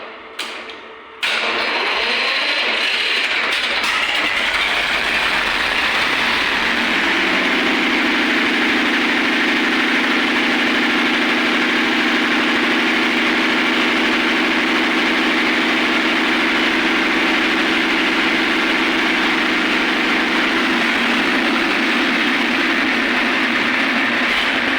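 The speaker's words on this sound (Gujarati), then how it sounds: "ટ્રેક્ટરનું તો એન્જિન છે।" A diesel fire pump engine of the tractor type is cranked with a starter, catches, and then idles loudly and steadily close by, a low even rumble with a mechanical clatter running throughout.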